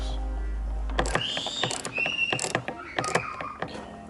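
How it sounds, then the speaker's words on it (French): Torx screws are driven in to fit Bushwacker fender flares with spacers on a Jeep Cherokee XJ: close, intermittent ratcheting clicks and creaky squeaks of the screws and plastic, in short irregular bursts. "Ça se visse sur les vis torques."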